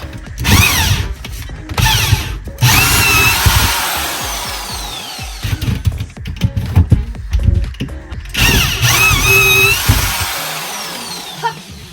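A power drill bores through an exterior wall while installing an air compressor, whirring and grinding in loud bursts with brief pauses and ratcheting clicks, then stopping near the end.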